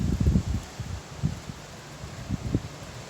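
Gusty spring wind rustles tree leaves, with soft irregular swells and low buffeting bursts.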